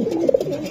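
Racing pigeons from a club loft coo close by in a short, soft burst of low, throaty warbling notes, with no talk over them.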